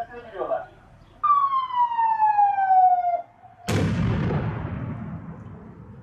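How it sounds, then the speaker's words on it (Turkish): Police experts carry out a controlled detonation of a suspicious suitcase in a hospital garden: a sharp, loud blast with a decaying rumble follows a falling siren-like tone, with a brief voice at the start. "Hastanesinde kontrollü patlatma yapılacak."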